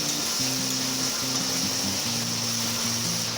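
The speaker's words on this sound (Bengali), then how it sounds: "এবার মশলাটা ভেজে দিয়ে দেবো" Ginger, chilli and cumin frying in a pan for khichuri, a steady close sizzle with a low hum and faint tonal bands running under it throughout, no talking.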